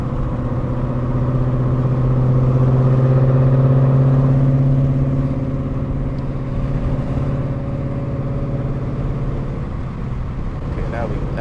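A Ford Mustang GT with loud headers drones from the driver's seat, a steady engine hum rising in pitch then easing off as it cruises, with someone talking over it.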